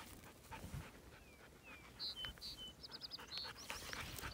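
A tired dog panting in a farm field during crop checking, soft rapid breaths low in the mix, with birds chirping intermittently around it and no talking.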